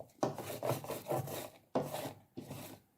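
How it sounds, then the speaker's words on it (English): A lint roller rolls across a table picking up spilled glaze, giving several rough rasping rubbing strokes in short bursts, close and fairly quiet, with no talk. "And then I have a lint roller that I use to pick up any excess"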